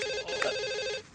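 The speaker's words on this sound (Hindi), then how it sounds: "Oh, phone." A telephone rings in one continuous electronic trill lasting just over a second, steady and fairly loud, with a short gap partway through. No one speaks over it.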